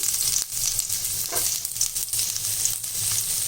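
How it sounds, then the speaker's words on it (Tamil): One onion fries in a little oil in a kadai, giving a steady close sizzle with faint stirring noises and no talking. "ஒரு கடாயில் கொஞ்சமாக எண்ணெய் விட்டுட்டு இதுலேயே வந்து ஒரே ஒரு வெங்காயம்"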